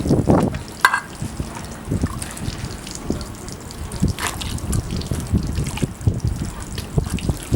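Water gushes and splashes at a Japanese temple hand-washing fountain with a dragon statue, a steady pour with irregular spatters and clatters close by, no talking.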